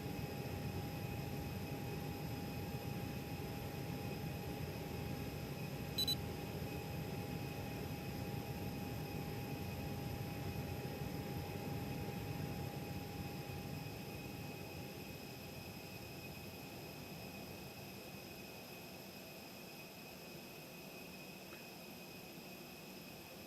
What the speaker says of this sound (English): APU is running